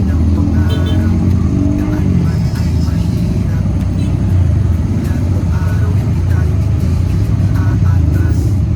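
Road traffic drones continuously near a campsite with a natural hot spring in the Philippines, heard from a tuktuk ride, with engine rumble and passing vehicles forming a loud, unbroken wash.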